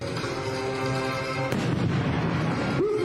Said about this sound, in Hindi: अस्पताल के दरवाजे को खास तरीके से विस्फोटक लगाकर उड़ा दिया गया।